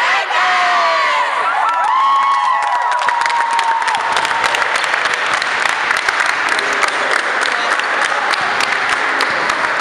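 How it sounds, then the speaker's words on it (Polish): Crowd applauding and cheering with shouts and whoops at a youth girls' basketball final in Człuchów, after a second-place result; dense, loud and continuous throughout, with high voices rising over the clapping early on. "Jeszcze brawa, jeszcze radość i wspólne."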